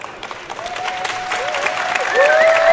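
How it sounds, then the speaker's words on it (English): A crowd at a Magic: The Gathering draft tournament in Las Vegas breaks into applause, steady clapping that swells louder toward the end, with a faint tonal sound running underneath. "The crowd goes wild."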